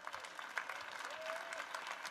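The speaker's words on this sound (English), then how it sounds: "Let's give them all a round of applause." Applause from an audience at a live games showcase, a steady crackling wash of clapping that holds at a moderate level through the whole stretch with no clear voices on top.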